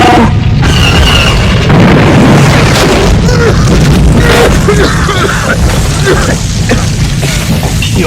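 A blast from a hunter-killer droid's cannons blows a hole in a prison cell wall in a science-fiction audio drama, a loud booming explosion followed by sustained rumbling debris and crashing that fills the whole stretch.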